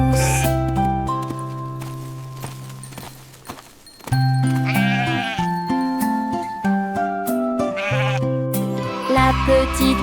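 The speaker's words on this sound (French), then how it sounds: "Elle conduisait les moutons le long du chemin. Ils sautaient tous les uns après les autres et bêlaient" Sheep bleating over a bright children's song with instruments, several wavering bleats rising out of the music, loud and close.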